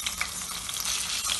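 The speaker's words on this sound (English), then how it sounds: "And stir it well." Ginger garlic paste stirred in a hot pan for vermicelli biryani, a steady bright sizzle and frying hiss with soft scraping from the stirring, close and continuous, no voices.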